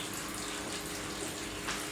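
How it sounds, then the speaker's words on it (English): Water streams into a wok for boiling green beans, a dense, steady rushing splash that stays even from start to finish, with no talk over it. "So we put some water in our wok."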